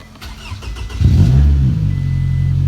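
A car that has sat unused for two weeks cranks and fires up, then its engine swells into a deep, loud rev before settling into a steady rumbling run, close by with no talking.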